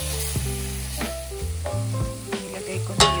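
Chopped onion and garlic sizzle steadily in a hot pan for pork afritada, a close, continuous frying hiss with soft stirring scrapes and no voices.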